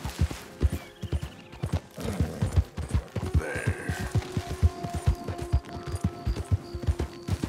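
Horse hooves from Red Dead Redemption 2, a close, rhythmic clip-clop of trotting steps running throughout, with a short whinny-like sound in the middle.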